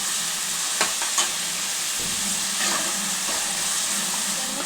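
Onions frying in a pan until reddish, making a dense, constant sizzle up close, with a few stirring scrapes and light clinks scattered through; no voices.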